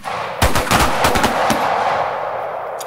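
Handgun shots fired from the draw during a close-retention shooting drill in Nashville, a loud, close string of rapid cracks packed into about a second, followed by ringing range ambience with no talking.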